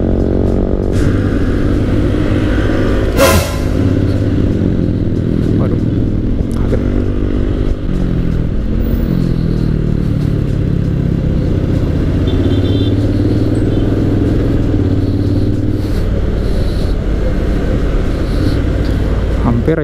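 Honda X-ADV 750 motorcycle on a test ride accelerating with a steady engine drone and road noise throughout, wind buffeting and a rider talking over it.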